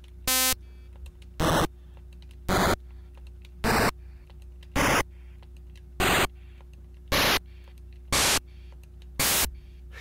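Short bursts of harsh chiptune white noise from a Game Boy music tracker's channel 4 repeat at a steady beat, about once per second, over a faint electronic hum.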